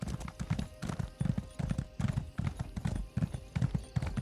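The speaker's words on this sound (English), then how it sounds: "Let's get on our horse." A blood horse's hooves clip-clop at a steady trot in the video game Elder Scrolls Online, with regular paired hoof strikes close by and a faint voice briefly underneath.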